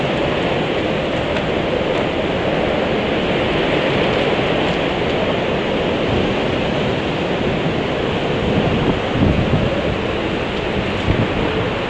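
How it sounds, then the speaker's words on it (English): Strong Hurricane Irma wind roars steadily in broadband noise, buffeting without pause, with occasional louder gusts. "And I'm telling you, it's windy. It is windy."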